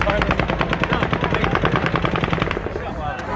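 Rapid automatic gunfire during a mass shooting attack in Las Vegas, a dense, loud, continuous stream of evenly spaced shots lasting several seconds, with crowd noise beneath.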